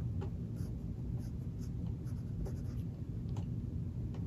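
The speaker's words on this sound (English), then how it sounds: "So I'm going to draw a picture of myself" Pen scratching across paper while a child draws a self-portrait, a steady soft scribbling texture with brief stroke accents, close and continuous.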